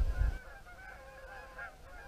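Canada geese honk repeatedly as they fly in on a September evening, a steady chorus of overlapping calls from a distance after a brief low rumble at the start.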